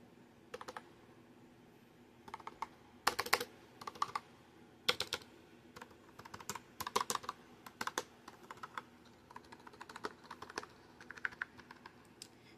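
Fingers type on a white computer keyboard, producing close, crisp key clicks in irregular bursts with short pauses, some keystrokes softer than others, alone in a quiet room.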